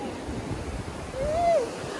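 Ocean surf rolling onto a beach at Morong, Bataan, a steady broad wash of waves with wind noise, fairly soft and continuous, swelling slightly near the end, with a brief faint tonal whistle over it.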